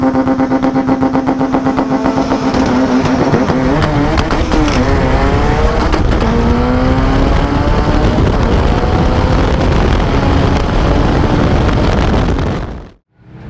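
A 2006 Subaru WRX with a RevWorks RW 1200 long block, tuned for around 1100 horsepower on 46 psi of boost, roars loudly at close range with rising and falling revs and gear changes, then cuts off abruptly near the end.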